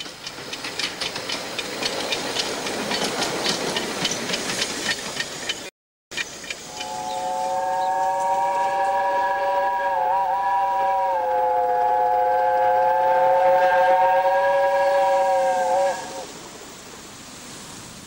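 A Romney, Hythe and Dymchurch miniature railway steam train at Hythe station. Engine chuffing and rumble come first, then a loud multi-toned steam whistle sounds for about nine seconds over the running train, with a voice talking over it.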